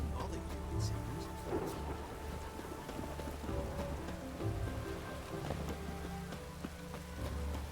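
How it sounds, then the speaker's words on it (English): Steady rain pours through a thunderstorm in The Witcher 3, with low rumbling thunder rolling underneath and faint background game sounds, continuous and enveloping throughout. "The storm, damn it. Rain doesn't bother you, it seems."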